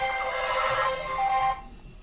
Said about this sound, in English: Let me turn this phone off, man.